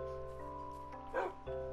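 A dog companion in the video game The Reliquary gives a short yip and whimper over a sustained tonal game music drone, fairly quiet.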